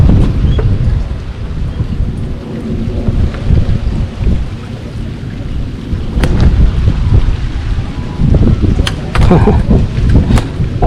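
Steady rain and rolling thunder over a bangus (milkfish) fishing pond on a wet day, a dense, continuous roar with low rumbling swells and a few sharper bursts near the end.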